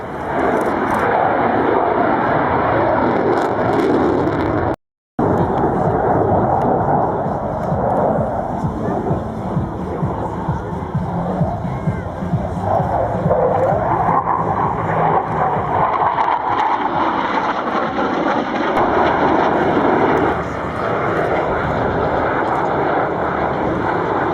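A jet aircraft at the 2012 Florennes airshow roars loudly and continuously overhead, the engine noise swelling and shifting as it passes, with a brief dropout partway through.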